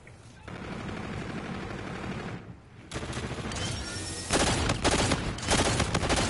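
Automatic gunfire from the V3 Enigma, a legendary G-Rail in a video game, firing in rapid bursts that grow louder and denser toward the end, close and continuous with no voices.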